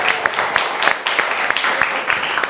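An audience at a talk claps loudly in response to a call for the women in the room, a dense, continuous wash of many hands with crisp individual claps standing out, close and unbroken throughout.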